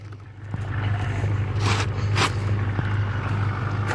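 A GMC Sierra truck sits idling in snow, its engine giving a quiet, steady low hum, with a couple of brief scraping rustles passing over it.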